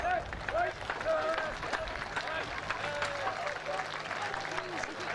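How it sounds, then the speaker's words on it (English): A crowd at a D-Day 80 airshow claps and cheers after a Royal Navy parachute display team's performance, with a steady wash of applause and scattered shouts under someone speaking over a public address system. "Let's give them a big cheer."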